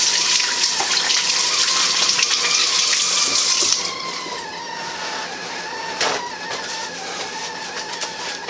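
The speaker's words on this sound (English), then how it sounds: "wash my hands here." Hands being washed under a running kitchen tap, a loud close steady gush of water with splashing that softens partway through as the flow changes, then continues at a lower level; no one speaks.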